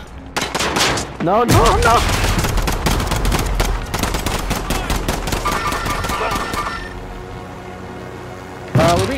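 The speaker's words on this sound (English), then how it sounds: "We're being shot from Green Bay Massacre." Rapid bursts of machine-gun fire crackle through a chaotic video game firefight, loud and near, with panicked shouting over the shots and a final burst at the end.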